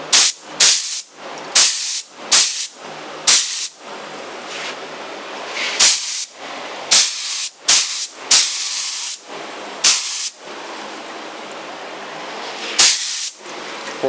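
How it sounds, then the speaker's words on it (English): A spray gun mists walnut toner onto the legs of a 1962 Lane Acclaim wooden coffee table, giving repeated sharp hissing bursts of varied length with brief gaps, close and loud, with no talking. "And here we go, toning the legs with a little bit of walnut."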